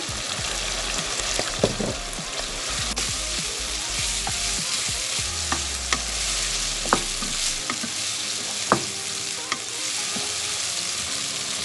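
Chicken giblets stir-fry in a pan with ginger, shallots and wood ear mushrooms, a loud continuous sizzle broken by frequent scraping and clanking strokes of the spatula.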